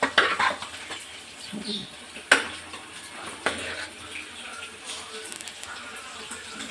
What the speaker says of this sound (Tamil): சோறை இந்த ஒரு கிண்டு கிண்டி அப்புறமா எல்லா மசாலாவும் கீழே இருக்கிறது மேலே வரும்